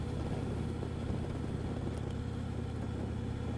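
A motorcycle being broken in, ridden along a road: a steady, loud low engine drone with continuous road and wind rush, close and unchanging, no talk.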